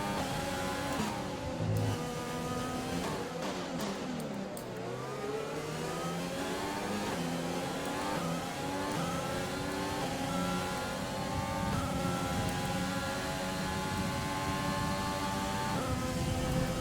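Formula 1 race car engine from the F1 2020 video game, a sustained high-pitched engine wail with rising and falling gear-change sweeps as the car accelerates and shifts, loud and continuous, no talking.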